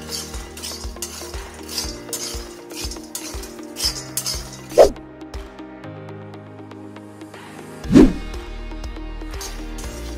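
Peanuts roasting in a pan as they are stirred, with repeated scraping and rattling strokes at a steady rhythm, close and clear, plus two louder clanks of utensil on metal partway through; no talking.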